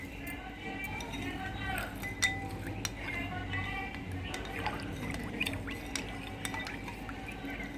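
A spoon stirs panakam, a jaggery drink with ground pepper and cardamom, in a metal vessel, giving repeated light clinks and scrapes through a steady background hum.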